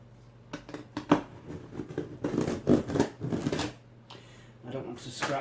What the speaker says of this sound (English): So what we're going to do is we're going to cut this box open.